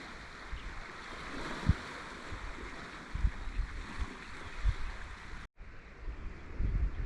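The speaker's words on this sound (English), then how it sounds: "Loving the sound of water." Steady broadband wash of water along a shore at Hua Hin, Thailand, with gentle surges and occasional low thumps, continuous throughout with a brief dropout near the end.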